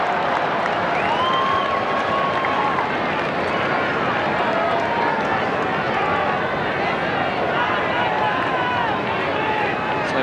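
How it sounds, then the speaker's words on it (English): A large Australian football crowd at Subiaco during a 1997 Fremantle versus St Kilda match roars continuously, a dense wash of cheering and whistles filling the air as a commentator talks over it. "So a very enthusiastic crowd at Subiaco as Daniels prepares to bring the ball back"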